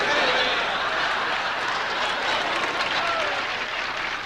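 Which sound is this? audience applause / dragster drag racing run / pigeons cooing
audience applause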